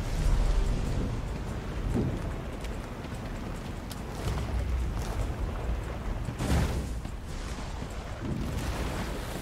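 A rainstorm with rumbling thunder in the fantasy role-playing game Divinity: Original Sin 2, a steady wash of rain with low thunder swells near the start and again midway, heard on its own without voices.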